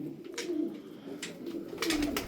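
Tumbler pigeons coo softly nearby, giving several low, rolling calls across a couple of seconds against faint background noise.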